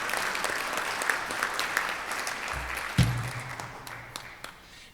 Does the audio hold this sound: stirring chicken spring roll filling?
no